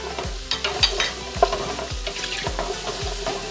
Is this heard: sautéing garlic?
yes